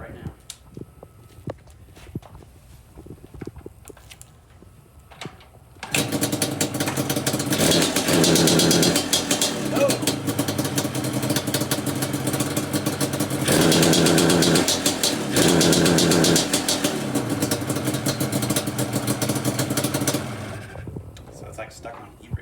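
A Yamaha Banshee ATV engine fires up after a quiet stretch, then runs loud and close with a rough, rattling idle and repeated revs before shutting off.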